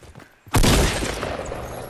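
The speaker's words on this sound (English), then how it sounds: "Someone's shooting a hand cannon at us." A hand cannon fires in a shooter video game: a quiet lead-in, then a sudden loud blast that rolls into a dense burst of gunfire and lingering rumble.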